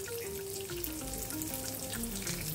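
Urad dal, dried red chillies, a green chilli and tamarind roast in a hot pan with a steady, soft, even crackle and sizzle, close by and continuous with no talking.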